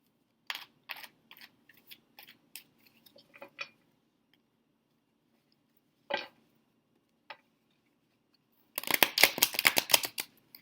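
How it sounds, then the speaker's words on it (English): Tarot cards riffle and slap in a run of quick crisp flicks, a pause with a few isolated taps, then a loud dense burst of shuffling at the end. "we're just going to shuffle a little bit more with you"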